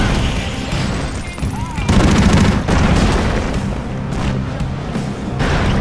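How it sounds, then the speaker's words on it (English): A terror cannon firing in the video game Broforce, booming shots and gunfire-like bursts over a busy, loud game soundscape, with a voice briefly over the action. "that's the terror cannon! It shoots people out at us, oh no!"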